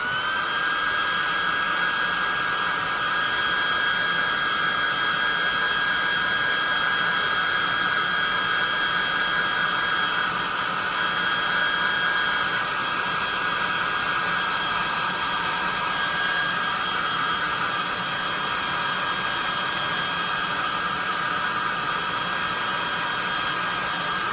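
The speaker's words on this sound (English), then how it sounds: "let's get the +2 hot air gun out and try to dry some of this up" A hot air gun blows steadily on wet paint on a Mindflayer miniature, a continuous loud whooshing hum with a high whine that holds unchanged for the full length, with no talking.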